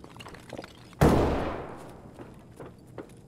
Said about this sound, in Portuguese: Que tiro foi esse, falso?